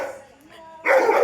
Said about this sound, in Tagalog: Galit ang aso.